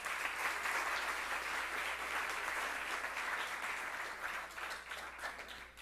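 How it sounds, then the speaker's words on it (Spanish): Sustained audience applause in an auditorium during a lecture event at a cultural centre, a fairly quiet, continuous patter of many hands that thins slightly toward the end. "para quien pido un fuerte aplauso"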